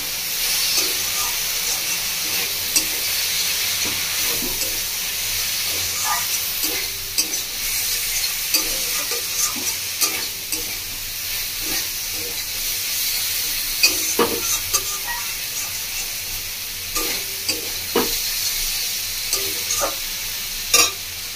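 Bhindi masala spice paste with Kashmiri chili powder sautéing in a pan, a loud steady hiss of frying with irregular stirring scrapes and clicks throughout, close and without talk.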